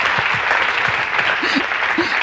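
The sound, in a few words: audience applause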